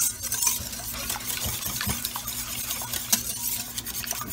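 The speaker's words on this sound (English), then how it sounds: "Now we're gonna mix all this together. Make our wash. We wanna bust our eggs up pretty good." Eggs and sugar whisked together in a bowl for a sweet cream French toast wash: a steady, close run of quick scraping and clicking strokes with small clinks, no voices.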